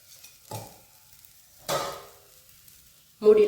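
A rice dosa fries in oil on a pan, with a few short bursts of sizzling and scraping set apart by quiet gaps, close and moderately loud.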